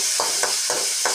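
A spoon scrapes and stirs pirandai chutney mixture in a pan, giving four evenly spaced strokes over a soft sizzling background, close by and fairly loud.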